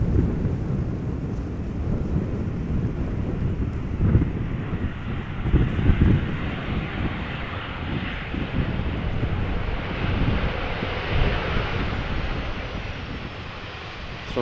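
Transavia airliner arriving at Amsterdam Schiphol in gusty crosswinds, a deep rolling engine roar with heavy low rumble and wind buffeting, steady and fairly loud, slowly fading toward the end.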